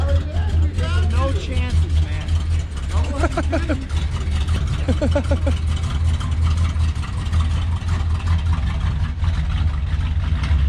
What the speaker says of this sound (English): And now they're taking the other car out.